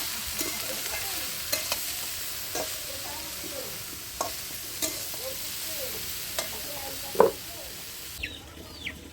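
Banana stem frying in a pan over an outdoor fire during stormy weather, with a soft continuous sizzle, occasional stirring scrapes and clinks, and faint background sounds including distant birds.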